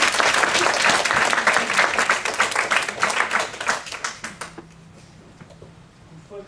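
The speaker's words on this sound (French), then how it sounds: "les spectateurs doivent applaudir" Theatre spectators at a stage performance break into brisk, full applause that fades out over a few seconds, leaving near silence.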